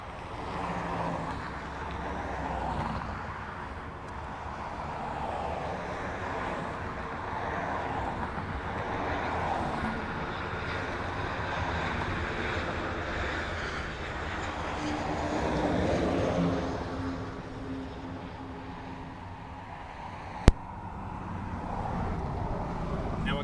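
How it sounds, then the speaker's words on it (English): Airplane passing at Dublin Airport, a steady broad roar that holds loud through the whole stretch and swells slightly near the end, with no talk over it. "Oh, it's a plane."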